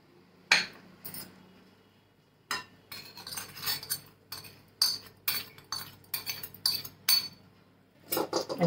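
A spoon stirs green chilli pickle with oil and garlic in a dish, giving sharp, irregular clinks and scrapes against the vessel with short quiet pauses between strokes.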